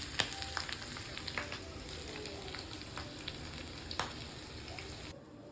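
Ingredients frying in oil in a home kitchen pan, a steady close crackling sizzle running throughout with small pops, then cutting off abruptly near the end.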